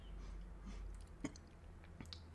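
Someone chewing a stick of jerky, with soft, close, moist munching sounds and a sharper bite partway through, quiet and without speech.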